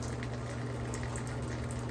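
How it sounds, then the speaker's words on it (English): Water rushing from an opened Gerber shower valve, a steady, close, full-bodied hiss and gurgle that runs unbroken throughout with no voices. "Right now I'm opening the valve slowly, see if any water comes out"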